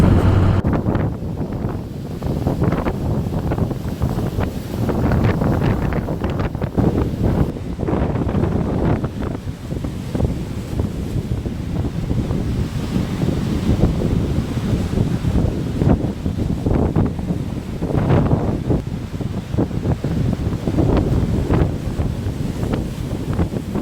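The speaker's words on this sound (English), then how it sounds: "got some footage of Lake Superior with all that wind and those waves" Strong wind buffets the microphone beside Lake Superior as waves surge and crash on the shore, a loud, continuous roar of gusts and surf with no one talking.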